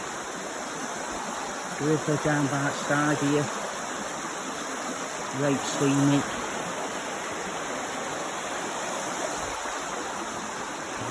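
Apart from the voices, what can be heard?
river flowing beside the walking path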